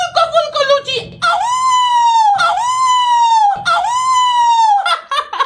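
A wailing siren sound effect, police-style, rises and falls in three long loud sweeps after a brief burst of chatter-like sound at the start.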